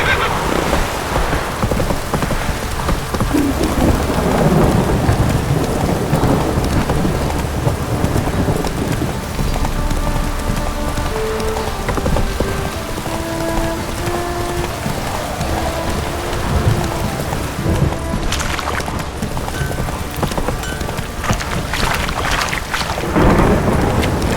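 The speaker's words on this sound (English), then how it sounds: "Don't stop raining, my arse." Steady heavy rain hisses throughout in The Witcher 3 game, with rumbles of thunder rolling in, and a brief melodic tone sequence plays faintly midway.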